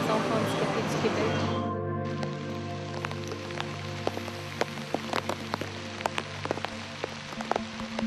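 Rain falls during a Kilimanjaro hike at about 2000 metres altitude, with scattered sharp drop taps on a surface over a steady background, while a voice and a sustained tonal sound run beneath.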